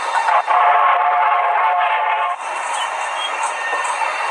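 A loud, steady video-game train rumble with rattling carriages rolls on continuously, shifting slightly in tone partway through.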